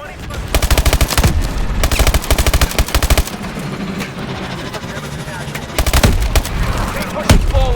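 Rapid machine gun fire in the video game Call of Duty Advanced Warfare, loud sustained bursts with short gaps between them, heard under military radio chatter.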